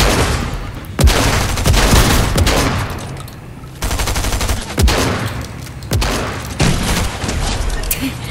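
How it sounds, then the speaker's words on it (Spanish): Shotgun blasts in a Fortnite match come in loud, close bursts, several sharp booms spread over a few seconds with short pauses between them, and excited voices shout over the gunfire. "¡Mátenlo con la escopeta!"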